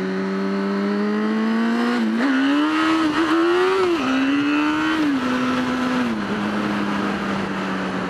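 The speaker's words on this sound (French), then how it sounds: "Juste un coup de gaz pour se lever, pour se mettre droit." A motorcycle engine revs hard to about 6000 rpm for a wheelie, a loud, close, sustained tone that climbs, wavers near its peak and then eases back down, with no talking over it.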